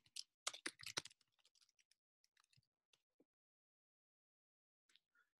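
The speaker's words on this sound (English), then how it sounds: "Now I'm going to type some gibberish." Keyboard typing of random gibberish: a quick burst of dense key clicks at the start, then sparse, scattered single taps trailing off, and a couple of faint clicks near the end, with no voices.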